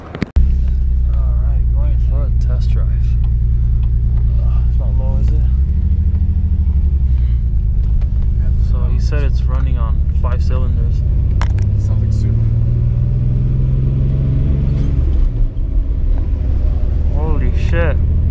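Toyota Tacoma pickup on a test drive, its engine a steady, loud low rumble heard from inside the cab and rising and falling through gear shifts, with people talking over it throughout.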